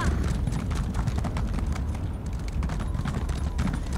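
Hooves clip-clop in a quick, even rhythm as a horse is ridden in The Elder Scrolls Online, the hoofbeats close and continuous throughout.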